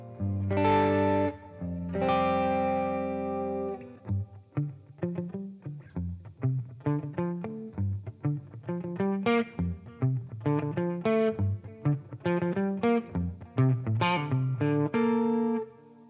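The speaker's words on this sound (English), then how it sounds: "tape echoes from SoftTube also to add some delay. This is more like an extension of my reverb." An electric guitar through a Matchless Laurel Canyon amp capture with tape echo delay and reverb plays two long ringing chords, then a lively run of picked notes and chords, clean and loud with echoing tails.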